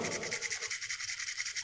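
Sandpaper rubbed against a magnesium ribbon to clean its surface, a fast, even back-and-forth scratching repeated many times in a quick rhythm, close and fairly quiet.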